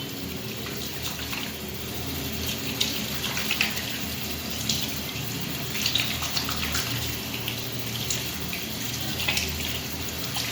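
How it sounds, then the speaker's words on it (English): Tap water runs steadily over hands being washed, a continuous splashing rush with small irregular spatters throughout, fairly close and with no talking. "Now, wash your hands nicely with water."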